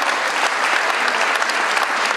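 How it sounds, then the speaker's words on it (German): A gala audience at the 2015 Narrhalla carnival applauds the opening of the ball: a loud, steady, dense wash of many hands clapping that stays even throughout, with no voices standing out. "Oder mit einem dicken Applaus von Ihnen, jetzt hier die Balleröffnung"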